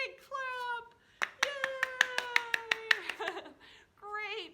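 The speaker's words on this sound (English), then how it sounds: "Sand blocks like to tap, tap, tap. Then they like to clap. Big clap!" Sand blocks in a children's music activity: a sustained sung note, then a quick run of about eight sharp, evenly spaced claps of the blocks under a singing voice, ending with a further sung phrase.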